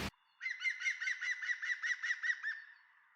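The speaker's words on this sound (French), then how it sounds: "C'est le pic vert." A green woodpecker calls from the garden with a clear ringing series of about ten quick, even, laughing notes, loud and close, with no other sound around it.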